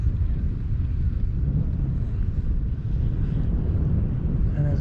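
A light aircraft passes overhead during a short flight outdoors, a continuous low droning rumble mixed with buffeting wind noise on the microphone, steady in level for the whole stretch.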